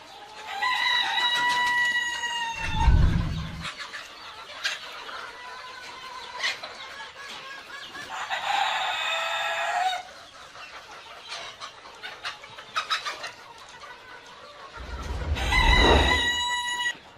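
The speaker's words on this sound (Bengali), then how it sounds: "দেখেন আমাদের মুরগি।" Fayoumi chickens clucking and a rooster crowing loudly twice, with other hens cackling and chattering in between, close by.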